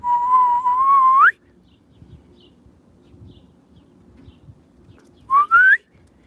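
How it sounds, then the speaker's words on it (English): A person whistles to call pet canaries, giving a long rising tonal whistle at the start, then a pause of quiet room sound before two shorter rising whistles near the end. "Let me, if I whistle, they'll come to me."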